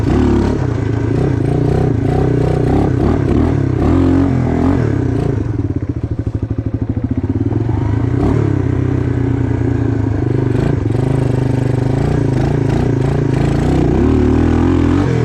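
A 1986 Suzuki Quadrunner LT250EF ATV engine revs loud and close, holding a steady roar with a brief dip midway before climbing again, with some rattling clatter underneath.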